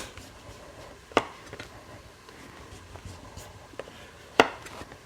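A hefty steel knife cuts the peel away from a butternut squash, giving two sharp, close cracks as the blade bites through, with soft scraping and rubbing in between.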